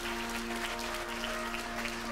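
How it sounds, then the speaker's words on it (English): Church assembly audience applauding: a steady, even wash of clapping from many hands, fairly distant, with no talk. "can we give another round of applause for everything that's gone on?"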